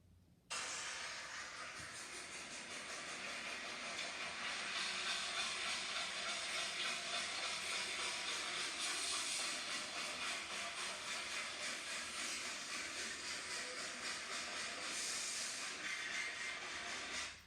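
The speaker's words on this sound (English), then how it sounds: "That is a train." A train passes in a recording played back for young children, a steady rushing hiss and rumble of moving rail cars that holds for most of the stretch before cutting off, with no talking over it.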